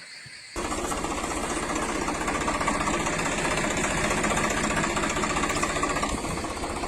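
Ford and Swaraj tractor engines run steadily and loudly after a brief quieter start, a dense continuous rumble with a rapid knocking, jackhammer-like rhythm that holds throughout.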